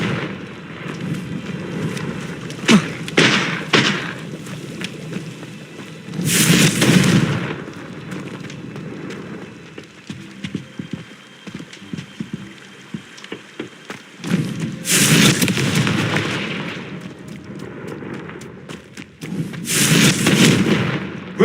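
Fiery Confringo spell blasts in the Hogwarts Legacy video game, three loud broadband bursts spaced several seconds apart over a rumbling, crackling background of game effects.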